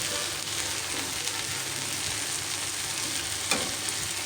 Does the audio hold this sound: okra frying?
yes